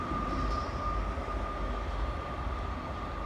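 A Great Western Railway class 158 diesel unit pulls away from a platform at Newport, its steady low rumble and engine drone holding strong and close throughout, with a thin high tone above.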